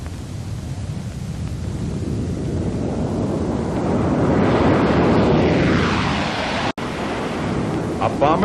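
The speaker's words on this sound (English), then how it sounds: "The Stratojet was all set to try its wings" A 1952 Boeing B-47 Stratojet jet bomber in flight gives a steady, loud roar of jet noise that swells in the middle, then cuts out for an instant near the end before resuming.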